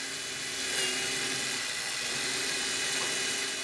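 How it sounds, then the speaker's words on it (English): A steady, high-pitched whining drone of a dull drill boring a 1/8-inch hole through 1/2-inch plywood, running continuously, close and fairly loud, with no other sounds. "To drill an 1/8-inch hole in a piece of 1/2-inch plywood."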